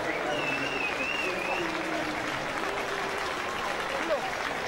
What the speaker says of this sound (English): good round of applause from all concerned